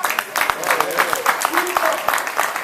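An audience applauds for a politician at a political gathering: a short run of steady, close clapping with a voice speaking over it.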